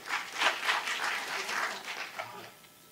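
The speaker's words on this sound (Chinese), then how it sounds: "那我们就用热烈掌声来欢迎他" A conference audience applauds to welcome a speaker at PyCon TW 2019, a steady, fairly soft patter of clapping that fades out toward the end.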